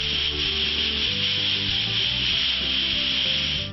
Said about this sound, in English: Use the emery cloth to clean the inside rim.